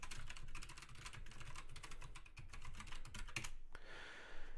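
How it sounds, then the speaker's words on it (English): A password typed on a computer keyboard, a steady patter of soft key clicks in an irregular rhythm, fairly quiet and close, stopping near the end. "Let me try to remember how to type my master password in here."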